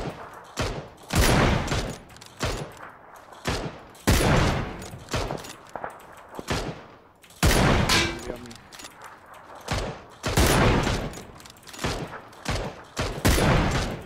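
Bursts of gunfire in the battle royale game PUBG, loud repeated volleys and single shots coming in clusters with short gaps between them, close and dominant.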